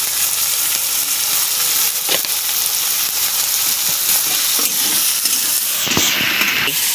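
Shrimp ghugni ingredients fry in oil in a pan, giving a steady close sizzle with occasional stirring scrapes and clicks and a sharper hiss near the end.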